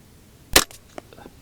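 A single sharp crack from a Ruger 10/22 rifle fired at a 25-yard target, one short close report followed by a faint echo and small trailing ticks.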